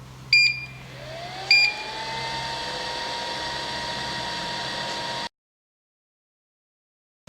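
A 3D vacuum phone-case printing machine starts up: two short beeps, then a steady whirring motor hum with a rising whine that runs for about five seconds before cutting off abruptly into silence.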